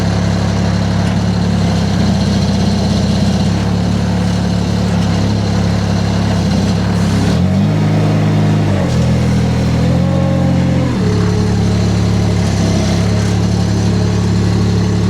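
A compact loader's engine runs steadily as the machine drives toward a trailer, loud and close, with the pitch dipping and rising twice as the load changes, then settling back into a steady drone.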